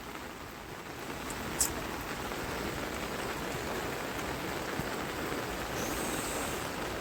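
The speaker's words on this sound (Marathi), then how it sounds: "एकदम जोर से पानी आ रहा है" Steady broadband rush of water, constant and fairly loud throughout, from heavy rain runoff flooding a road beside fields, with no voices.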